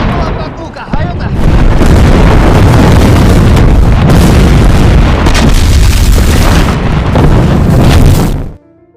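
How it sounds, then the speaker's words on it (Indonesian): Artillery explosions in a war film about Soviet troops: loud, sustained booming blasts and rumbling detonations that fill nearly the whole stretch, overlapping into a dense roar before cutting off abruptly near the end. "Kini serangan artileri yang diluncurkan lebih tepat sasaran."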